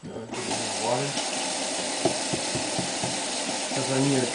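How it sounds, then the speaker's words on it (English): Tap water runs in a steady, continuous stream while preparing sushi with a Sushezi sushi maker set, and a person talks briefly near the start and again at the end. "Now I'm getting the water"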